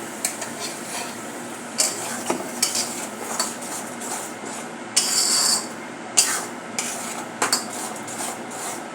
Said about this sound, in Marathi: आता यामध्ये आपण घालणार आहोत वाटण. संपूर्ण वाटण यामध्ये घालून घेऊया.